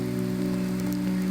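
Rain falls steadily in a garden of roses near the sea, a soft continuous patter with a low background hum.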